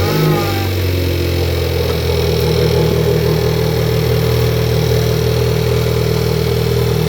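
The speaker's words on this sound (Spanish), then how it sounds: "encendemos el motor un momento y comprobamos que todo está bien" A SEAT Leon MK3 1.4 TSI engine starts and settles into a steady, loud idle with a low hum, running evenly for several seconds with no talk.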